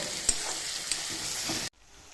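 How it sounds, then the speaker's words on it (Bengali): Onions sizzling and crackling in hot oil, a steady close hiss with a couple of louder pops, cutting off abruptly near the end. "পেঁয়াজটা যতক্ষণ লাল লাল ভাজা না হবে ততক্ষণ মাংস ছাড়বো না"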